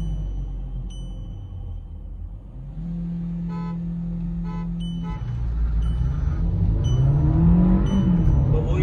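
Hyundai Verna 1.6 diesel and VW Virtus GT drag racing, engines droning loud and steady, with a rising rev sweep near the end as the cars pull through the gears.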